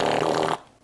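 A fart played back from a video of women farting, loud and sputtering for about half a second before cutting off into a faint tail.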